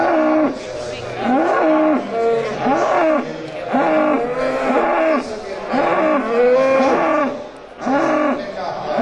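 Several Charolais bulls lowing repeatedly at a livestock show ring, deep drawn-out moos overlapping in quick succession, loud and close throughout.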